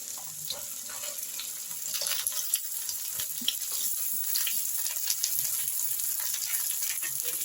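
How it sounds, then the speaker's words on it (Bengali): Eggplant pieces fry in a pan with potato and onion, giving a steady, hissing sizzle with small crackles throughout, no talk. "বেগুনটা আমি একটু ভাজা ভাজা করে নিচ্ছি।"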